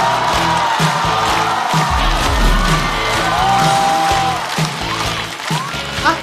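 A live stand-up comedy audience welcomes a comedian to the stage with loud applause and cheering that swells and holds over the venue's playing music.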